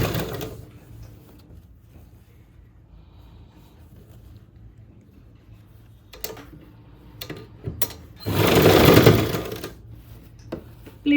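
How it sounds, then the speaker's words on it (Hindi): A sewing machine stitches a blouse seam in a short, loud whirring run near the end, with scattered clicks and handling noises before it. "इस तरह से हम बिल्कुल बराबर करते हुए सिलाई लगाएंगे।"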